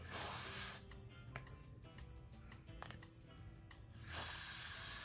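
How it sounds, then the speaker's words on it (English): Hair spray hisses in short bursts from an aerosol can onto a wig's hairline, close up, with a few clicks of the nozzle between sprays. "So now I'm gonna go in with the spray once again and spray the edges."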